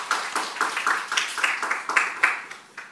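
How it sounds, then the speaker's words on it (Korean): Congregation clapping in a church service, a loose run of quick, fairly even handclaps at moderate distance, tapering off toward the end. "박수로 영광 드리겠습니다."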